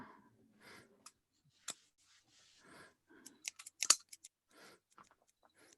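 Faint clicks and light metallic snips of scissors being handled at a wrestling event, scattered and quiet, with soft rustling and breaths between them.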